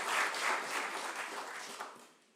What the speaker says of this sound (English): How about another round of applause for His Honor, the Mayor of the City of Malden.